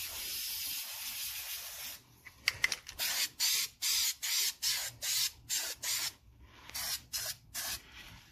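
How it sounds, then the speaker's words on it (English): A spray paint can hisses in a run of short, even bursts, with a brief rattle of shaking just before the spraying starts, close and fairly quiet. "Let me shake and pre-spray."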